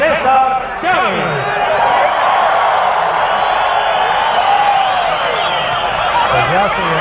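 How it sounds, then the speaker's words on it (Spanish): A boxing arena crowd roars for Julio César Chávez, a dense, loud, unbroken wall of cheering and shouting that fills the space from start to finish, with excited voices rising over the din. "la gente lo ha bañado, lo ha sepultado materialmente en una ovación y en un griterío ensordecedor"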